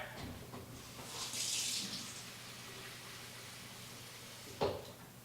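Water runs briefly from a tap into a spray bottle, a short hissing pour, followed by quiet and a single sharp knock near the end.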